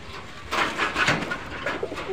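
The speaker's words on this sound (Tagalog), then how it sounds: "So ito guys yung kalapati na yun o." Soft, low pigeon coos repeat in a slow rhythmic series, fairly close, with faint background ambience and no talking.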